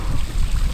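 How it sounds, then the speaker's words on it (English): Strong wind buffeting the microphone with low, rumbling gusts that rise and fall continuously. "It's so windy down here today."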